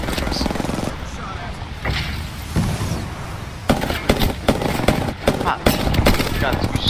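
Gunfire in Apex Legends, dense rapid bursts of automatic shots that grow louder and more frequent in the second half, mixed with game effects and occasional player talk.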